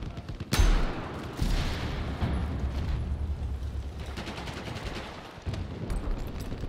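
Gunfire in the Battlefield 4 video game, a loud blast followed by dense rattling automatic fire and explosions, continuous and rumbling throughout.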